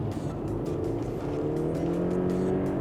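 2024 Mercedes-Benz E-Class engine revved up, a steady smooth drone climbing gradually in pitch, heard alone without talk.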